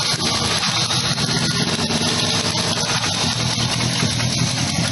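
A 1976 Holden Torana SLR engine idles with a steady, rough mid-range rumble and vibration, loud and close, continuous throughout with no talk.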